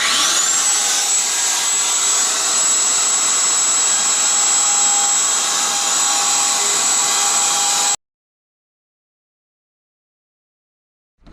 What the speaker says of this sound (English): So I'm going to try to do this with a router.